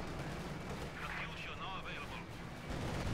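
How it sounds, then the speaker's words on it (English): Katyusha rocket artillery barrage in Company of Heroes 2, a dense continuous roar of rapid launches and distant blasts with a rising whistling streak through the middle, under constant game noise and chatter. "Katusha!"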